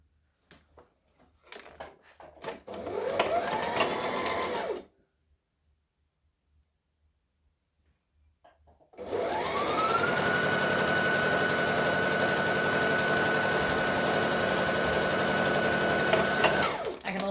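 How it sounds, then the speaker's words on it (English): An overlocker stitches dress seams in two steady motorized runs: a short burst of about two seconds, then a pause, then a longer continuous whirr of roughly eight seconds, heard close up and without talk. "I will be overlocking these just for added security"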